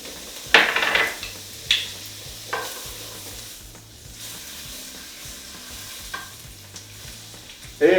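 Olive oil, about two tablespoons of butter and a couple of garlic cloves sizzle in a pan over high heat, ahead of cooking filet mignon. A steady close hiss continues throughout, punctuated by a few sharp stirring clatters and pan knocks.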